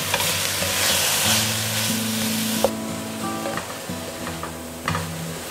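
Onions, carrots and cabbage frying in oil in a pan, a loud close sizzle broken by stirring scrapes and clicks, with a steady low hum underneath and no talk.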